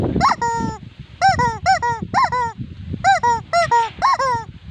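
A plastic squawking chicken toy lets out a series of loud, nasal honking squawks in quick bursts, about eight cries with short gaps, close and clear with no talking.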